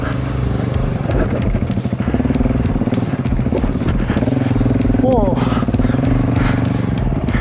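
An enduro motorcycle engine drones steadily on an off-road mountain trail during the climb up Mount Lakmos, loud and close throughout, with people talking over it.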